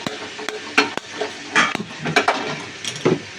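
Butter masala chicken frying in a pan, with utensil clinks and scraping stirs over a low sizzle, close and alone without talk.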